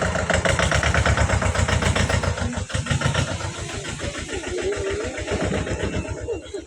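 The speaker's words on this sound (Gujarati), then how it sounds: "અમારા કાળુ કાકા મિની ટ્રેક્ટર લઈને અટાણે ખેડવા જાય." A mini tractor engine heading out to plough after rain at sowing time chugs in a loud, fast, even beat close by, holding steady for the whole stretch.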